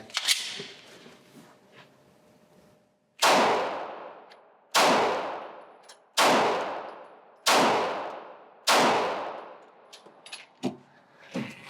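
Glock pistol fired at an outdoor range toward a 25-yard target: five sharp, loud cracks at an even pace roughly every 1.3 seconds, each with a short ringing decay, followed by faint clinks.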